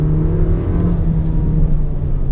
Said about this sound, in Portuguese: Aí uma aceleradinha bem leve para vocês verem aí, ó, né?